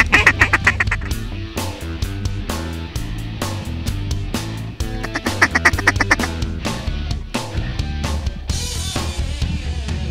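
Ducks in a North Dakota hunting field quack loudly and repeatedly in rapid, overlapping bursts, close by and persistent, with some honk-like calls mixed in.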